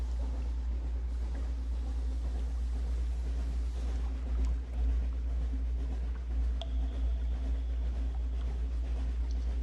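A ship sets sail in the video game Sunless Sea with a steady, low engine drone and a soft wash of wind and water that hold an even level throughout, with no voices.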